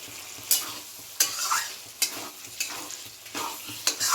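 Spices and tomato fry in hot oil, a steady sizzle broken by regular scraping stirs about once every second, close and clear, with no talk.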